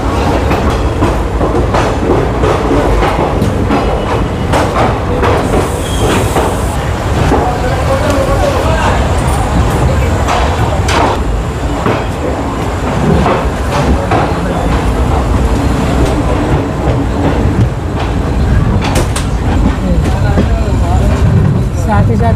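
The Guwahati–Ledo Intercity Express pulls away and rolls along the track, with a steady loud rumble, repeated rail clicks and clatter of wagons throughout, a voice talking over it at times.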